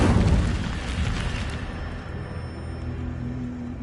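The Incendio fire spell cast in Hogwarts Legacy erupts as a loud burst of roaring flame that swells at the start, then settles into a softer, steady crackling burn, close and without voices.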